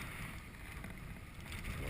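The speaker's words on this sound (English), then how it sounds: "I don't know if the camera's picking up all the wind." Strong winter storm wind gusting across a frozen lake, a steady loud roar of buffeting wind noise on the microphone with no voices, rising slightly toward the end.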